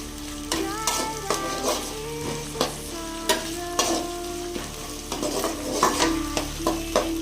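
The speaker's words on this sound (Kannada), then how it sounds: "ಸ್ವಲ್ಪ ಕರಿಬೇವು, ಈರುಳ್ಳಿ, ಪುದೀನ ಹಾಕ್ತಿದ್ದೀನಿ. ಸ್ವಲ್ಪ ಫ್ರೈ ಮಾಡ್ಕೊಳ್ಳುವ" Curry leaves, onion and mint frying for ghee rice: a close, busy sizzle with repeated scraping strokes of a spoon or spatula against the pan, with faint tonal clinks over the hiss.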